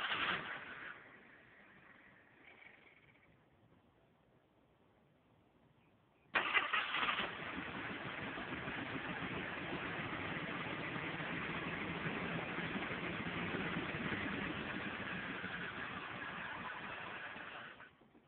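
A 1978 postal Jeep engine, fitted with an old-style fuel pump, cranks briefly, falls quiet, then catches and settles into a steady rough idle, heard close and continuous for the rest of the clip.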